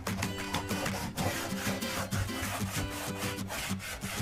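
Paint being rubbed by hand or cloth into a faux brick wall surface, a steady, continuous close scraping and rubbing texture with repeated strokes and no talking.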